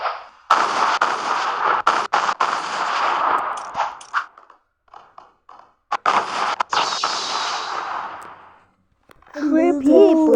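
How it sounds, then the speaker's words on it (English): Video game missile launch and explosions fill the clip: loud, close, sustained roaring blasts in two long waves, broken by sharp bangs and a few short metallic pings, followed by a brief burst of excited talk at the end. "Take this missile."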